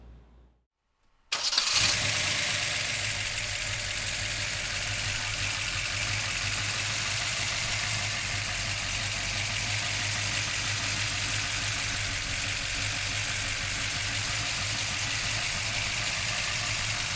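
A 1966 Chevrolet Chevelle big block engine cranks and fires after a brief quiet moment, then settles into a steady, loud, rumbling idle that holds for the rest of the clip, with no talking.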